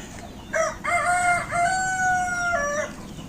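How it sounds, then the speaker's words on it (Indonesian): A rooster crows loudly nearby, a long drawn-out call broken into several rising and falling segments over a low background murmur. "ini ayam-ayam saya sudah pada menunggu, sudah pada kelaparan"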